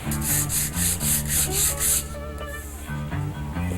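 Rhythmic back-and-forth strokes of 120-grit sandpaper on gun metal, removing old bluing, rasp loudly and close, about eight even passes, then slower, softer rubbing.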